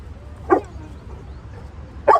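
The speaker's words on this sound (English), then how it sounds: "She's actually engaging and barking at me." Two short, sharp dog barks about a second and a half apart, close by, over a low background hum.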